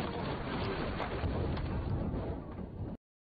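Thunder from a lightning storm severe enough to strike an aircraft, a deep, loud, sustained rumble that cuts off abruptly after about three seconds.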